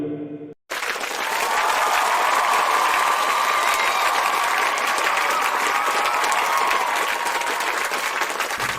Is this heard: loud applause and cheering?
yes